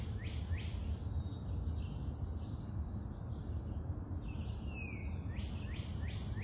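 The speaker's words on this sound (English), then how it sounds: "As you can tell, there's a lot of bird activity." Several birds chirp and call in short repeated bursts over a steady low background hum on a sticky, humid morning outdoors, the calls moderately distant and clear.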